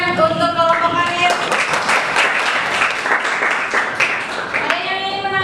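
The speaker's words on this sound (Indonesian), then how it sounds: "Oke, tepuk tangan untuk kelompok karir." An audience applauds a presenting group in a classroom session, with dense steady clapping filling the middle of the clip and a voice talking before and after it.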